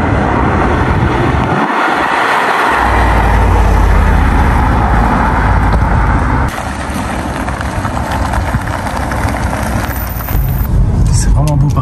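Audi RS6 C7 running on its stock sport exhaust, a loud continuous engine roar that holds steady for the whole stretch, with a brief low dip early on and a slight shift midway.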